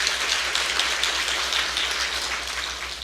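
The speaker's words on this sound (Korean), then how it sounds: "이럴 땐 박수도 쏟아져 나와야 되는데." A church congregation applauds at a revival service, with steady, dense clapping held at an even level for a few seconds and no talking over it.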